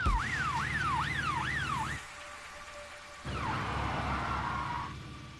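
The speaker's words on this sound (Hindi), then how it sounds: "भाई वो देखो, वो तो पुलिस की गाड़ी है।" A police car siren wails in rising and falling sweeps, then drops out briefly before a longer, steadier wail returns over engine and traffic rumble.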